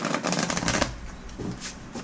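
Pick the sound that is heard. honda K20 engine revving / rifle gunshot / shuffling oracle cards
shuffling oracle cards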